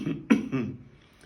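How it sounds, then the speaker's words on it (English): A person gives two short coughs with the mouth closed, each a muffled, nasal burst of air close to the microphone, followed by a fading breath. "You can train by coughing with your mouth closed."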